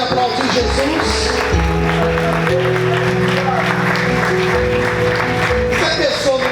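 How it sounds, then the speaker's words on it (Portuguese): Church congregation clapping for Jesus during a sermon, a dense continuous wash of applause with music playing underneath and voices mixed in, loud and sustained. "Você pode aplaudir Jesus?"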